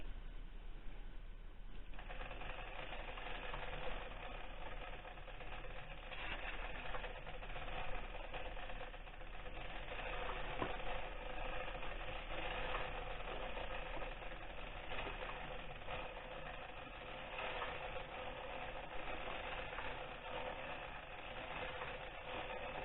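A hand-cranked sock knitting machine runs with a continuous busy mechanical clatter and rattle, faint and steady throughout, with no voices.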